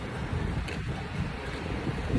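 Steady, roaring wind buffets the microphone, a dense low rumble with no clear breaks throughout.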